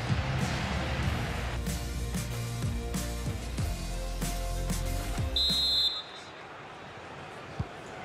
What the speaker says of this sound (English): the referee blowing the whistle